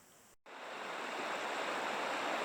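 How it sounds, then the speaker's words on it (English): Creek water rushes steadily in a wild park campground after a cold night, a broad continuous hiss that swells in after a brief gap near the start and holds loud and unbroken. "The next morning, we went to the creek to filter some water."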